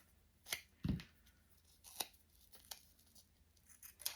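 Tape is torn off a roll for a paper journal, giving a few short, quiet ripping and crinkling sounds close up with pauses between them.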